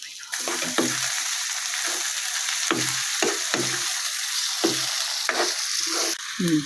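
A medium tomato added to a frying pan for Kashmiri kadhi sizzles loudly and steadily, broken by repeated low scraping knocks of a spoon stirring every second or so.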